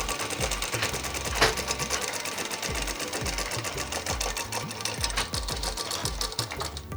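A sewing machine runs steadily, stitching the sleeve of a double-layered frock, its needle chattering in a fast, even mechanical rhythm close by for several seconds, with no voices.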